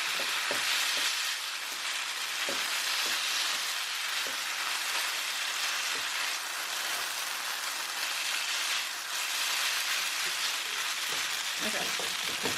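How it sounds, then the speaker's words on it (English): Vegan japchae noodles stir-fried in a pan, a dense, steady sizzle like heavy rain with occasional scraping strokes of a spatula, close and continuous, with no speech over it. "we're going to stir fry these."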